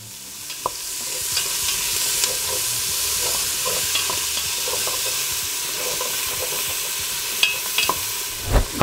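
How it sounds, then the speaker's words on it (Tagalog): Garlic, a beef cube and onion leeks sauté together in a hot pan for beef mami noodles: a steady sizzling hiss with occasional sharp clicks and scrapes of stirring, close and constant throughout. "garlic, beef cube, at saka onion leeks. Sabay-sabay na natin gisahin."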